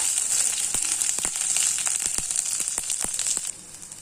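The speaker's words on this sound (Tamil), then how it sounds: "இப்போ அதில் தேவையான அளவு கடுகு சேர்த்துக்கலாம். வரமிளகா, கருவேப்பிலை சேர்த்துக்கலாம்." Mustard seeds, dried chilies and curry leaves sizzle in sesame oil, a steady hiss with sharp popping crackles scattered throughout, close and fairly loud.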